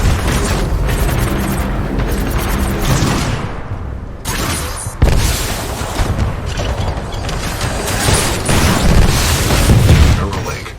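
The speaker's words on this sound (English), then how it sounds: "This shoulder-mounted rocket pod will lock onto multiple enemy targets." Shoulder-mounted rocket pod on a Titan in the video game Titanfall 2 firing a barrage, with loud booming blasts and explosions layered over dense battle noise, a brief lull midway, then more sustained rumbling impacts.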